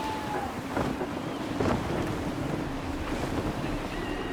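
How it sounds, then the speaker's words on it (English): Sailing ship in Assassin's Creed 3 pushing through gusty wind and waves, a steady broadband rush of wind buffeting and water surging with brief louder gusts throughout, no voices. "Gusty winds can be difficult to manage."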